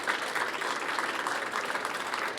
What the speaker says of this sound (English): Please give a big round of applause for all of the winners here.